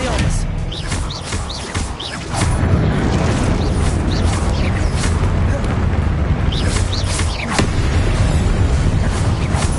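Confringo explosive spell blasts in the Hogwarts Legacy video game, a loud broadband boom near 2.5 seconds followed by sustained rumbling blasts and crackling bursts, with repeated sharp impacts through a dense battle mix.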